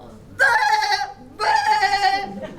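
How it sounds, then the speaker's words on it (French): Two long, wavering bleats from a stinking flock of sheep, loud and close, each lasting about half a second to a second with a short gap between. "Un troupeau de moutons puants et bêlants."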